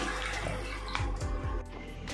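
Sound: water being mixed into dosa batter

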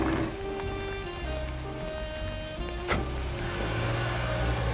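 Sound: car being parked

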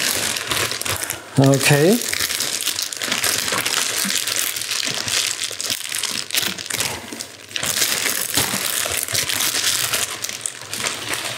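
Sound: plastic protective film peeled off an espresso machine

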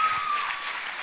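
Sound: applause

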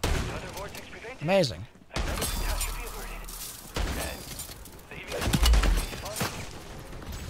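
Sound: gunfire in video game MW3 Zombies

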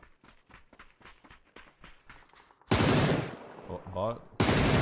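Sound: full auto AK rifle fire in PUBG video game

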